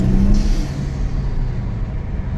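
Kia Stinger with a low fuel pressure fault driving on a wet road in the rain, its engine giving a steady low rumble that holds loud and constant throughout, with no sharp rise in revs.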